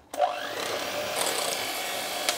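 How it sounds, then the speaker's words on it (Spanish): Electric hand mixer running at low speed, beating batter with an egg for filled Christmas biscuit baskets; a steady whirring motor tone starts abruptly and holds close and continuous, with no talking. "Y ahora batimos hasta integrarlo todo, a una velocidad bajita."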